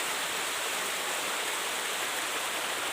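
A forest stream flows into a small rock pool, producing a constant, close rush of water with no pauses.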